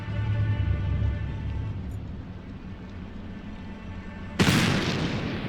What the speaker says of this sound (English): Whoa! What was that? Sounded like a gunshot.